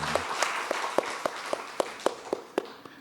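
A few people in a church congregation clap in a slow, sparse rhythm of distinct single claps, faint and evenly spaced over a quiet background.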